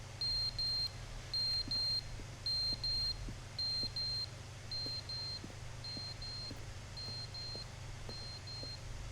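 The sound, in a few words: fire alarm beeping in the video game The Stanley Parable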